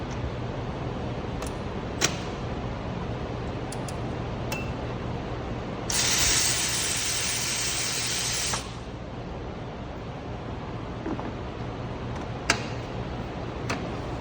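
Ratchet loosening a 14 mm upper roller bolt on a 2011 Subaru Outback during timing belt service, heard as a close, bright rasping burst of about three seconds mid-clip, surrounded by quiet garage ambience and a few sharp ticks.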